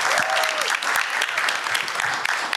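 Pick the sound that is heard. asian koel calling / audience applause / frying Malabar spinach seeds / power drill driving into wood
audience applause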